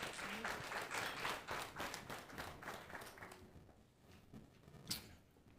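Audience applause for guests taking the stage at a policy conversation event, a fairly quiet ripple of clapping that swells and then thins out, with a single sharper tap near the end.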